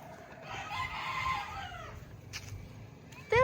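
A rooster crows in the distance in Antipolo, Philippines, a long drawn-out call, followed by a couple of brief sharp noises and a louder bird cry at the end.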